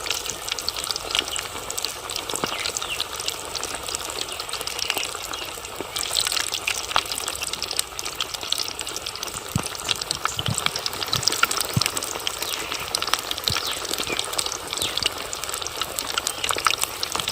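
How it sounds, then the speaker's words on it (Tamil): Whole quail coated in masala frying in a pan of boiling oil, village-style cooking outdoors: a continuous loud hiss and crackle of bubbling oil, steady throughout with scattered sharper pops and no talking. "பார்த்தீங்களா எண்ணெய் எப்படி கொதிக்குது?"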